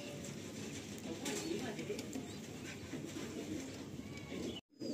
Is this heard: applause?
no